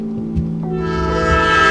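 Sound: train passing in a Rockstar video game

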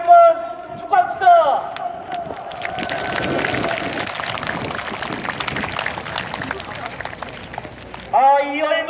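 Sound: crowd cheering and shouting at a rally in Gwanghwamun Square

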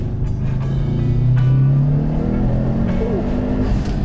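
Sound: car engine revving

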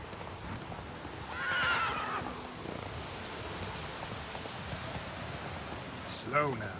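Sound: horse jumping and neighing in The Witcher 3 video game

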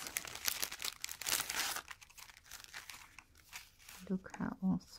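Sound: paper doilies being handled and unwrapped

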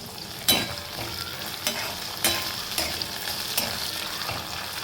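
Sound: potatoes being stirred while frying in a pan

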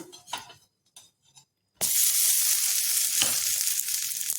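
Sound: flipping a vegetable pan bun frying in oil

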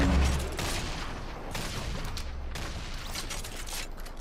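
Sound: grenade launcher firing in the video game Fortnite

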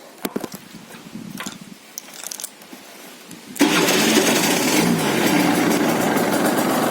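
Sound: motorcycle engine started with the key and running

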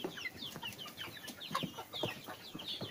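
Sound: Arab chicken hens clucking

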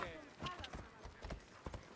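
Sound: horse hooves in video game

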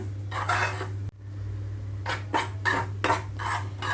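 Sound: roasting semolina (rava) in a pan for upma

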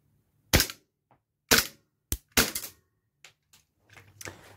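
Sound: Raven airsoft Glock pistol firing in semi-auto

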